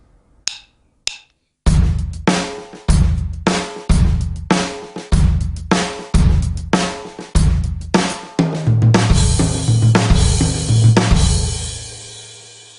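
An Indian rhythm phrase ending in a tihai, played on a drum set: a few soft taps, then a run of loud, evenly spaced kick-and-cymbal strokes that build into a dense closing flurry with a ringing wash.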